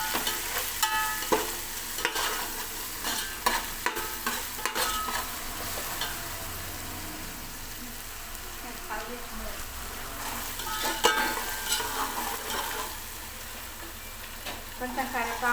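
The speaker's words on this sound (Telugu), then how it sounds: "అల్లం వెల్లిగడ్డ పేస్ట్ వేయాలి. ఇది కొంచెం కలర్ రావాలి, ఉడికి కొంచెం కలర్ రావాలి." Ginger garlic paste frying and being stirred in a pan for mutton biryani, with a steady sizzle under repeated scraping stirs that swell and fade throughout.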